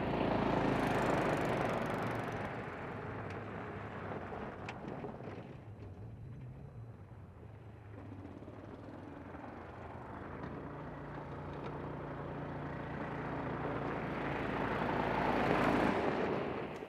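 Gas-powered 2022 Yamaha Umax Rally utility vehicle engine running steadily, a continuous broad rumbling drone that dips slightly in the middle and swells again toward the end, with no talking.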